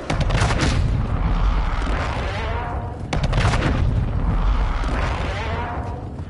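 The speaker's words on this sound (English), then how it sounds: "Friendly airstrike on the way." Friendly airstrike explosions in a battle royale game sound as a dense, continuous rumble of booms and blasts, loud and sustained, with two heavy waves rolling one after the other.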